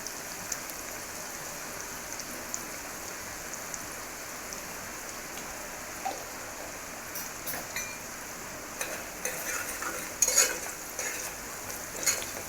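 Sliced onions frying in oil in a pan over a lowered gas flame, a steady close hiss and sizzle with occasional soft stirring scrapes toward the end.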